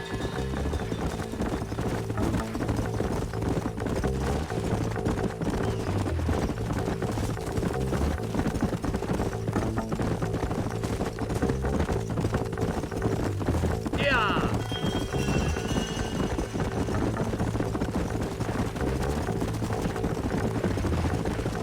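Horses' hooves clip-clop steadily in Red Dead Redemption, a rhythmic trotting patter that runs throughout under a constant bed of game music and ambience, with a brief whinny-like sweep partway through.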